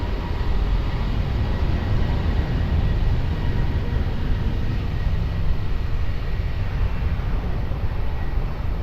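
An Airbus A321 rolls down the runway at Lisbon Airport in a 13-knot wind, making a loud, steady, broad engine roar that holds unbroken throughout without any voices.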